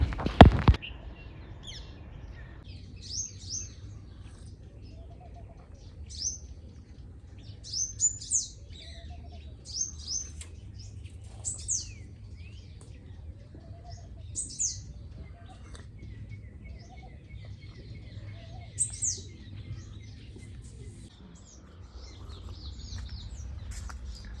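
Birds chirping and singing in short bursts of bright calls spaced a few seconds apart, fairly distant, over a quiet low rumble of wind or background hum, on a farm field during wheat sowing.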